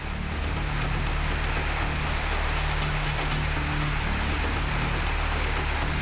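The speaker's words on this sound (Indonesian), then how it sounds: "hujan deras disertai angin kencang menerjang 3 kecamatan di Kabupaten Maros, Sulawesi Selatan" Heavy rain with strong wind lashes three districts of Maros Regency, South Sulawesi, as a loud, dense, unbroken roar of downpour with no voices.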